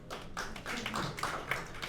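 Short scattered clapping from an audience at a mayoral candidate forum, a brief patter of hands in a hall, moderate and fading.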